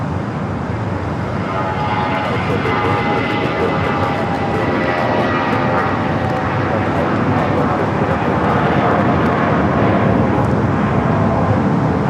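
An SAS airliner taxis to the north side at LAX, its engines giving a loud, steady whine and roar that fills the whole stretch, while a voice talks over it.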